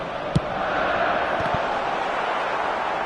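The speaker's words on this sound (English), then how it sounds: "it certainly got the crowd going" A football stadium crowd in the video game eFootball gives a steady, broad roar of cheering, with a couple of short thuds near the start.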